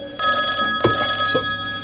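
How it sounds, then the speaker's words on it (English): A telephone bell rings in short bursts, loud and close, two quick trills in under two seconds with no one talking over it. "Oh no, my phone's ringing."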